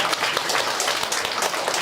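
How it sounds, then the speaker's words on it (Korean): A crowd at the entrance ceremony for the 16th class of Hyosagwan school claps in sustained, dense applause, loud and unbroken throughout. "다시 한번 큰 박수 부탁드립니다"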